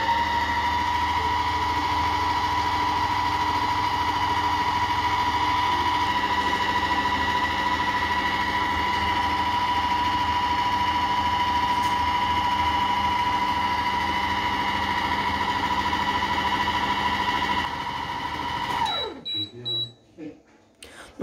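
A Compact Cook Platinum kitchen robot runs at speed 4 while heating to 70 degrees, giving a steady, loud motor hum with a constant whine that holds for most of the stretch, then winds down and stops near the end.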